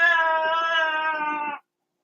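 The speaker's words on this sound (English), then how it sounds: "And enters the cat." A cat lets out one long, drawn-out, whiny meow, close and clear, lasting about a second and a half before stopping abruptly into silence.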